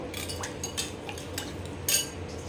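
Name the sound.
stirring honey lemon chicken sauce with a spoon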